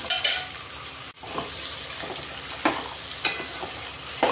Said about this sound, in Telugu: ఒక 2 to 3 మినిట్స్ మనం ఆయిల్లో వేయించేసుకుందాం వీటిని